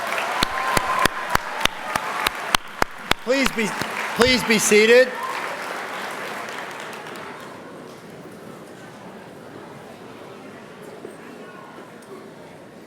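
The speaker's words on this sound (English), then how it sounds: "Could we give the seniors one more round of applause?" Applause for the seniors at an all-school assembly, mixed with sharp, regular clicks, swells briefly, then fades into a soft crowd wash while a voice speaks over the room.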